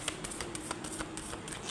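Tarot cards shuffled by hand, a steady run of soft papery riffles and light taps, close and fairly quiet, with no voices.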